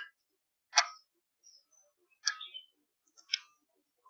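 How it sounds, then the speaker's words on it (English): A finger taps the photo button on a DJI Mavic 3 Enterprise Thermal drone controller, producing three small, sharp clicks spaced about a second apart in near silence. "click with my finger, picture"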